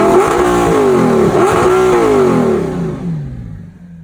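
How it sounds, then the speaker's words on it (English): A 2008 Audi R8 fitted with an aftermarket Avior exhaust revs hard and loud up close, its pitch climbing and dipping through a couple of blips before it settles and fades back toward idle. "It has an aftermarket exhaust, but it also comes with factory exhaust."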